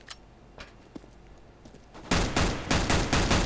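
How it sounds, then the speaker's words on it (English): Rapid gunfire in the game CS:GO, starting after a few faint clicks and thuds, then bursting into loud, sustained automatic shooting for the remaining second and a half. "Just shooting the gun?"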